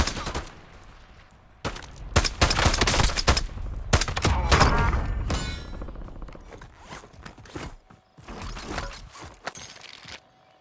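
Gunfire in a battle royale video game: bursts of sharp, rapid shots cluster in the middle, with scattered single reports before and after and quieter gaps between.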